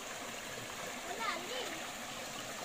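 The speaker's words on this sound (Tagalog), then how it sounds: "Ito po ang kanilang ilog" A clean river in a rural village keeps up a steady rushing flow with a brief splash, and a voice speaks faintly over the water partway through.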